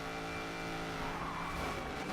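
A Koenigsegg supercar in Need for Speed Payback, its engine droning steadily with a sustained tonal whine and rising tire noise, loud and continuous throughout with no talk.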